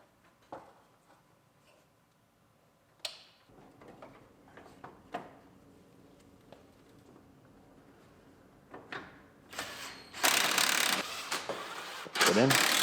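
Scattered ratchet clicks and metallic clanks from bolting a fender back onto a Lincoln MKT, with short sharp taps spread apart, then louder rustling and handling noise near the end.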